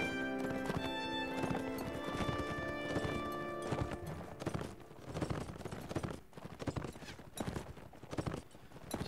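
Horse hooves clip-clopping at a steady gallop in the Warsword Conquest mod for Mount & Blade: Warband, with a whinny among the hoofbeats and a dense battle din behind them; the horse is injured, and the rhythm continues for the whole stretch.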